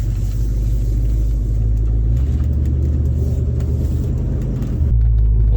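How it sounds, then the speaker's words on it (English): Engine of a car that sat idle for over 30 years running after a key start, a steady close low rumble with a shift in tone partway through and a heavier surge near the end, no voices. "y'all just listen to how quickly this thing fires up"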